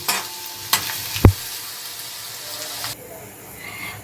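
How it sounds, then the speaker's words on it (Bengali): Grated ginger and garlic fry in hot oil with a steady bright sizzle, broken by a couple of sharp clicks of a utensil against the pan, and the sizzle softens toward the end. "এই আদা বা রসুন গ্রেট করাটাকে একটু ভাজা ভাজা করতে হবে"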